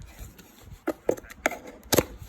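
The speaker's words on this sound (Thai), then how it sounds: "ค่อยๆ แกะครับ" Slow unwrapping of a tightly sealed package holding a Thai Buddhist amulet: a few separate crinkling, tearing rustles, close and fairly soft, spaced out over a couple of seconds with quiet gaps between.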